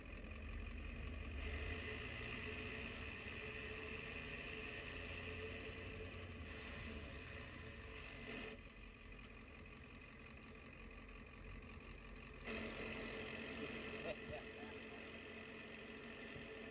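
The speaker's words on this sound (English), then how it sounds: "We have a noisy transmission." A noisy ZF5 manual transmission whines and drones in a running car, a steady mechanical hum over the engine idle, faint and continuous with small shifts in level and no talking.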